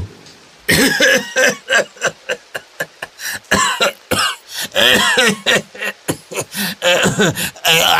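A man is seized by a severe, violent coughing fit, with loud, close, ragged bursts following one another in quick succession and throat-clearing rasps between them.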